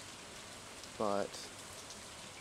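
Soft, steady rain falls in the Stardew Valley video game, a faint continuous hiss throughout, briefly interrupted by one spoken word.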